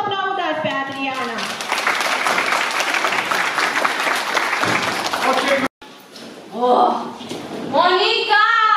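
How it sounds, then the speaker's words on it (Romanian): Audience applause at a Children's Day event, loud clapping filling the first half before stopping abruptly, followed by people talking, including a voice. "vreau să o aplaudați pe Adriana."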